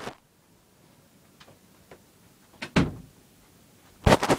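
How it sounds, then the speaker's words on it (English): A bedroom door is closed quickly: faint soft taps, then a louder clunk and rattle, and a final firm bang as it shuts. "Had to close my door real quick"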